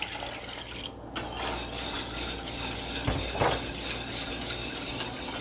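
Water is poured into coconut milk in a wok, a dense steady wash of liquid and clinking utensil sounds throughout, close and fairly loud with no talk.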